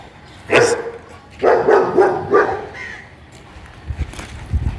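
A German Shepherd named Bella barks at someone outside, a few loud, close bursts of woofs in two clusters, followed by quieter low grumbles and thumps.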